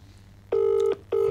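Phone call ringing tones, two loud steady buzzing tones with a short gap between them, close and clear with no talk.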